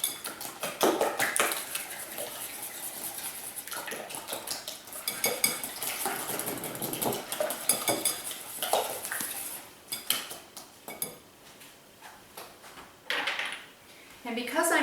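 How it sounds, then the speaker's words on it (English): Eggs beaten together in a bowl for a spicy sausage quiche, a steady run of quick clinking and scraping strokes with dishes and cutlery rattling nearby, fairly close and busy, pausing briefly near the end. "beat my eggs together"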